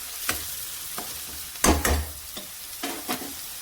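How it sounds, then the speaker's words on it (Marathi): Chopped onion fries in hot oil while a spoon stirs it in a dhaba-style whole masoor dal preparation, giving a steady sizzle broken by several louder scraping stirs near the middle and end. "कांदा हलकासा आपल्याला गुलाबी रंगावरती फ्राय करून घ्यायचा आहे."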